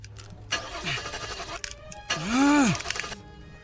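A car engine cranks but fails to catch, two strained whirring attempts separated by a short pause, loud and close with no speech.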